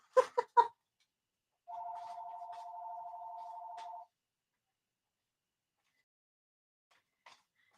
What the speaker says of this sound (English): That's our landline, and that normally doesn't even ring